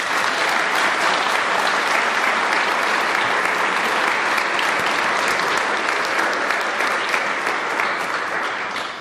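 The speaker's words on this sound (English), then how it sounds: "So please join me in thanking them in a round of applause." An audience at a company launch gathering gives a sustained, even round of applause. It stays thick and loud for the whole stretch and fades slightly only at the very end.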